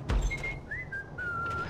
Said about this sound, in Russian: Мне так нравится, как они ходят, свистят, а потом умирают.